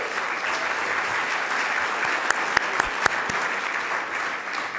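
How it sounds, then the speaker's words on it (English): A luncheon audience at a winter meeting gives the city's mayor steady, sustained applause, with a few sharp individual claps standing out near the end of the dense clapping. "She deserves a real round of applause"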